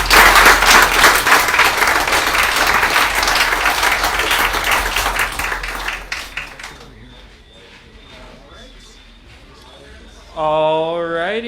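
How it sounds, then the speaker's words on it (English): An audience gives loud, sustained applause after a talk on the orchids of Saba. The clapping fades away about halfway through, then a voice begins speaking near the end. "One more big round of applause for Mike Bechtold and that awesome presentation."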